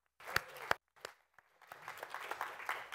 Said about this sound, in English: A warm round of applause for the New American Tavern.